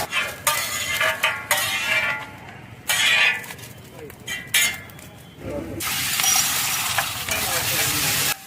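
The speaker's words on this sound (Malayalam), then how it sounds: "ഈ ഉണ്ടാക്കിക്കൊണ്ടിരിക്കുന്നത് ചിക്കൻ ഫ്രൈഡ് റൈസ് ആണ്" Chicken fried rice stir-fried at a street food stall in Kochi, with loud bursts of sizzling from the hot pan, intermittent scraping and clinking of the spatula against metal, and a sustained roaring sizzle toward the end.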